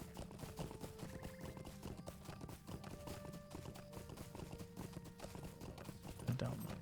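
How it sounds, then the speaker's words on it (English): Horse hooves clip-clop in a steady trotting rhythm in Lord of the Rings Online, moderately loud beneath game music and someone talking, with a brief whinny near the end. "let's get on the horse"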